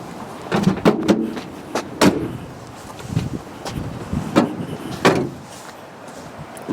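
Rear cargo door of a Nissan NV200 van swinging open to its full 180 degrees, with a few sharp latch clicks and thuds spaced over several seconds, close by and fairly quiet.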